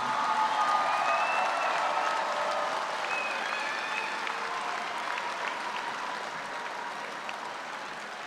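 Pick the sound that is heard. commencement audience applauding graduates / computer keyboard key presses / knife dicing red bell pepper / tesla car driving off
commencement audience applauding graduates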